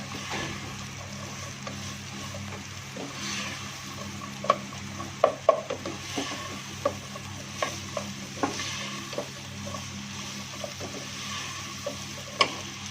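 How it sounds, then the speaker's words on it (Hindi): Onions frying in a pan for chicken bhindi, a steady low sizzle underneath a series of light ticking clicks and taps of a spatula, close and continuous with no talking. "प्याज फ्राई हो रहा है।"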